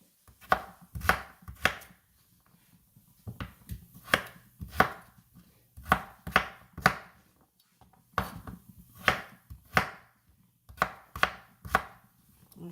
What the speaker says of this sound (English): it really don't take long to trim it if you have a sharp knife